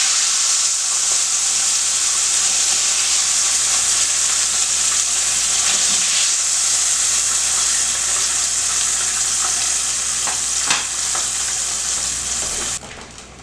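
Cube steak fries in hot oil in a pan, giving a loud, continuous close-up sizzle and crackle with occasional pops, which cuts off abruptly at the end.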